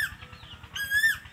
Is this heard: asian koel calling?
yes